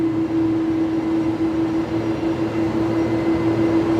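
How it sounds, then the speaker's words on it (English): A noisy Airbus A330 jet departs from the airport, a loud, steady engine roar with a strong droning tone that holds unbroken throughout, heard alone without talk. "Listen to this A330. It's noisy, isn't it?"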